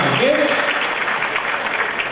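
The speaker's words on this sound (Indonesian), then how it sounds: "Tepuk tangan lagi buat kita semua." A short burst of applause from a gathered crowd at a 2010 company event, steady clapping filling the moment with a brief voice sliding through near the start.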